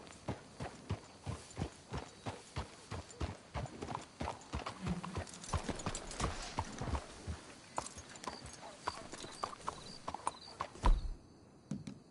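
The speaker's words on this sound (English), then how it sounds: "Let's hitch the horses up ahead." Horses clip-clop along at a steady walking pace in a PS4 video game, crisp hoof strikes in a regular rhythm, fairly close, with a brief louder thud near the end.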